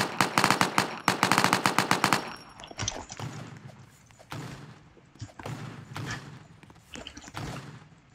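Rapid bursts of automatic gunfire from a Roblox copy of Fortnite, loud and dense for about two seconds, then scattered shots and thuds at lower level.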